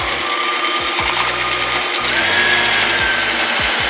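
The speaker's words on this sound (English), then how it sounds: "I am going to go ahead and start sewing together all of these rows" A sewing machine stitches quilt rows together in straight seams for a Christmas puff quilt, running continuously and close with a rapid, even mechanical chatter.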